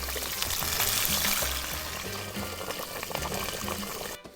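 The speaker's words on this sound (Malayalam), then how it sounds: "ഇവിടെ മീൻ പൊരിക്കുന്ന സൗണ്ട്, ഇവിടെ കറികോട്ടിൻ്റെ സൗണ്ട് കേട്ടോ" Fish frying alongside a pot of curry goat cooking outdoors in a Jamaican village kitchen, a steady close sizzling and bubbling hiss with no break, and a low rhythmic thumping underneath.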